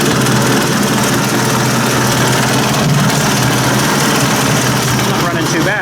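A Ford 800 tractor engine idles steadily after oil pressure line repairs, a loud, close, continuous mechanical rumble with no change in pace throughout.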